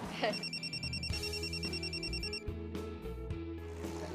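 A telephone rings with a repeating electronic trill through the first half of the exchange and then stops, heard over background music during an Indonesian TV drama scene.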